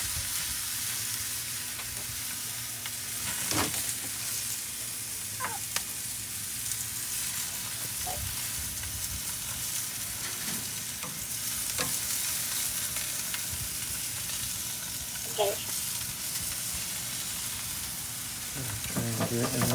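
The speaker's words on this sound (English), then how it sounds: "Just hear those beautiful steaks sizzling" Steaks sizzle steadily in a hot pan, a continuous crackling hiss with occasional louder pops and spits, close by and without talking.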